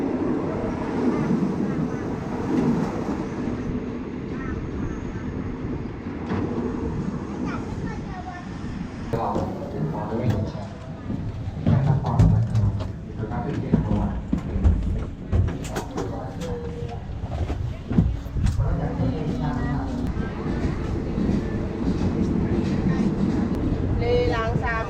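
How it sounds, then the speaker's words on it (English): An old train rattles and clanks along the rails with a continuous rumbling roar, bumps and creaks throughout, and voices faintly audible underneath. "one of my favorite ways to travel through Thailand so far, this rickety old train"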